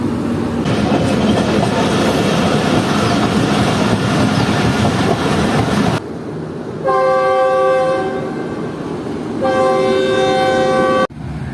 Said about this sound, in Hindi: तो वो 3 कोचेस अटैच होने के बाद ट्रेन आ रही है।